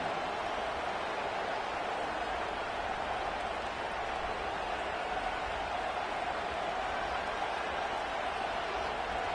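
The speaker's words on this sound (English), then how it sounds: "Listen to this crowd" A stadium crowd roars at a college football game in a steady, dense wash of cheering and noise. It keeps up at an even level the whole time, with no single voice standing out.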